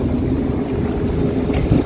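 A CS36 Traditional sailboat motors at about 1900 RPM through ocean swells at roughly 5 knots, with a steady, loud low engine drone and hull rumble mixed with wind and water wash, continuous throughout.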